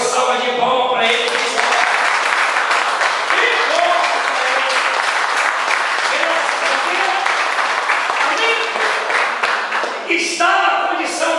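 Sustained applause from a church congregation fills the room, loud and dense throughout, with voices calling out over the clapping.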